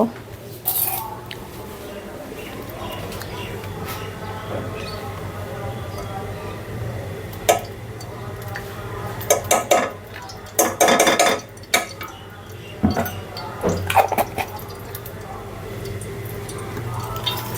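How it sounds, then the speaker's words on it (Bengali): A spoon clatters and scrapes in a pan as vermicelli fries in ghee, with irregular metallic clinks and bursts of stirring over a low background hum, busiest in the second half. "চামচ দিয়ে আমি এটা ঘি দিয়ে ভেজে নিচ্ছি"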